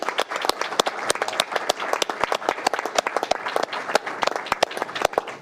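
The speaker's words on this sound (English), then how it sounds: "So I think all that deserves a round of applause for those members." Members at a full council meeting clap in a round of applause, a lively mix of sharp, close individual claps sustained at an even level throughout.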